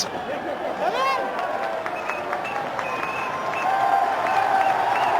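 A cricket stadium crowd at a Bangladesh vs India match roars and cheers in a continuous distant wash, with whistles and horn-like tones cutting through and the noise swelling in the second half.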